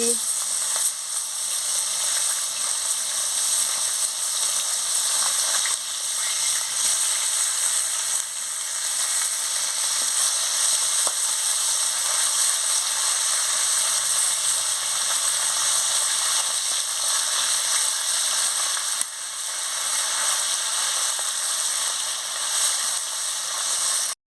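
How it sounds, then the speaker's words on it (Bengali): Fish fries in hot oil with a loud, continuous sizzling hiss that holds steady throughout, no talking. "তেল গরম হয়ে গেছে আমি মাছটা ছেড়ে দিচ্ছি"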